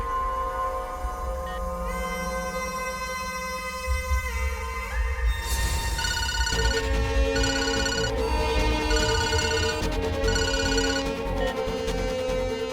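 A phone ringtone plays loudly and continuously, a repeating electronic melody of bright tones that shifts pattern partway through.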